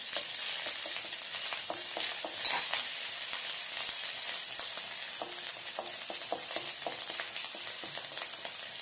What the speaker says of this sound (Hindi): जीरा तड़कने लग गया, थोड़ा सा जिंजर गार्लिक पेस्ट डाल देंगे,